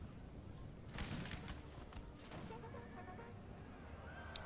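Musket volley fire from line infantry in Napoleon Total War, a faint battlefield with a burst of crackling shots around the first second and scattered pops afterward under a distant background of battle noise.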